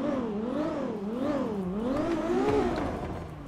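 A Ferrari supercar engine in the video game GTA 5 revs repeatedly, its pitch rising and falling in a steady wavering pattern, loud and close, with no talk over it.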